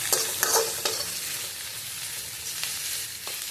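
Onion and garlic fry in oil in a pan for a prawn curry, a soft steady sizzle with a few sharp stirring clatters near the start.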